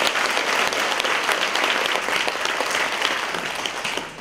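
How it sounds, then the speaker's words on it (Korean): Audience at a Changwon public deliberation forum applauding warmly, a dense, loud burst of steady clapping that fades slightly near the end. "유수열 대표님께는 뜨거운 박수 부탁드립니다"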